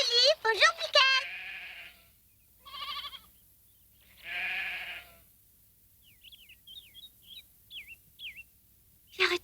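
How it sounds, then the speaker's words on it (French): Goats on an alpine farm bleat in several short, wavering bursts, fairly close, followed by a run of high chirping bird-like calls. "je vais chercher les chèvres"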